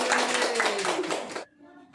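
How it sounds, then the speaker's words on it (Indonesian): An audience claps at a health training session on stunting prevention, a dense burst of applause that stops abruptly, leaving faint room tone. "Terima kasih tepuk tangan"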